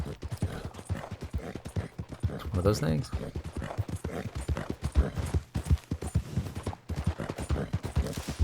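Morgan horse hooves in the video game Red Dead Online, a brisk, regular clip-clop of rapid hoof strikes running throughout, with someone talking over the rhythm.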